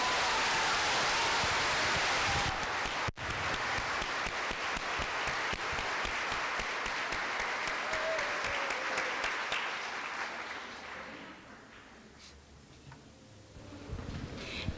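Applause from an audience at a Catholic talk on inner healing, a dense clapping crowd that holds steady, then thins and fades toward the end, with no voices over it.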